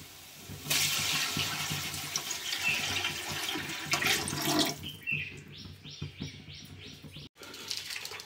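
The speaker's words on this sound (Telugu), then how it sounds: "ఇప్పుడు వాటర్ పోసుకుందాం" Water pours into a pot for egg biryani in a steady splashing rush lasting several seconds, then stops; birds chirp nearby afterwards.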